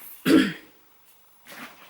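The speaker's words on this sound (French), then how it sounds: "Je suis désolée si je tousse ou si je me racle la gorge." A woman with a sore throat clears her throat and coughs once, close and loud, then a softer second throat clearing follows after a pause.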